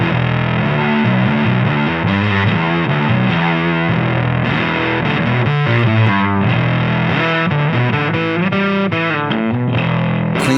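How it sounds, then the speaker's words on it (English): An electric guitar runs through a fuzz pedal at its initial setting, playing a continuous, thick, heavily distorted stream of chords and notes. It is loud and steady with no pauses. "So let's hear what the initial fuzz sounds like."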